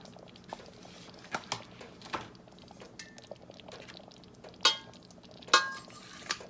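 Dried pasta tumbling and getting stirred into a creamy seafood alfredo sauce with lemon juice and pepper in a pan, soft scraping and stirring with a couple of sharper clinks of utensil against cookware.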